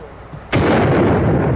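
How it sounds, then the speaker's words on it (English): A single loud gunshot from a Sharps buffalo rifle bursts in abruptly after a quiet stretch, its broad blast rolling on as a long, sustained echo like distant thunder across open country. "Hey, Hoss, even with that Sharp's buffalo gun you got, you don't figure you can hit a target at a half-mile distance."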